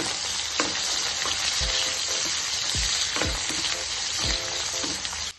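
Onions and green chillies frying in a pan for egg masala, a loud, dense sizzle running throughout, with spatula scrapes and low knocks against the pan every second or so.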